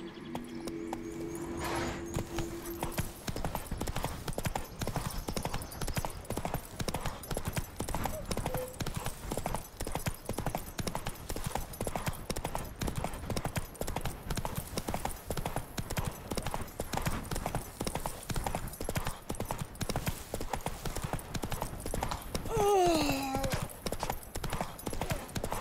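Steady clip-clop of horse hooves at a brisk trot in The Witcher 3: Wild Hunt, a continuous rhythmic beat over game ambience, with a short voice near the end.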